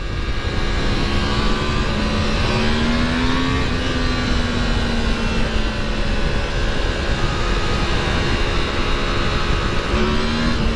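A Yamaha MT-10 SP motorcycle engine is held high in the revs, a loud, continuous howl with rising and falling pitch as the rider accelerates, no talking over it.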